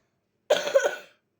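A single short, loud cough burst of about half a second, close and dry, alone against silence.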